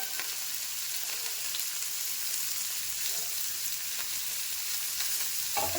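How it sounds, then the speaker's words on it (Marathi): Onion and curry leaves fry in hot oil, giving a steady close sizzle with occasional stirring scrapes, and no talking over it. "तेलामध्ये आपण थोडासा कांदा परतून घेऊया."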